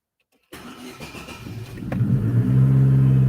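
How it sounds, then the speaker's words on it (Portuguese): Car engine cranking and catching after a moment of silence, then settling into a steady, slightly raised idle around 1,400 RPM, loud and close with a rising hum. "Eu vou ligar aqui o motor para vocês olharem"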